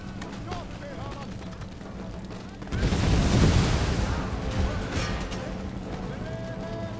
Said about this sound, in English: Get a grenade and whammo!